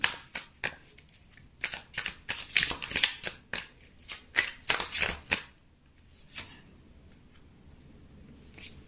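Tarot cards being shuffled before two are drawn: a run of crisp riffling bursts in uneven quick clusters, fairly close, and then a quieter rustling stretch with no talk.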